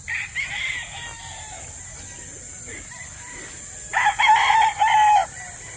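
A Boston black rooster crows in two bursts, a shorter call near the start and a louder, drawn-out crow later, moderately close on a farm, with people talking faintly in the background.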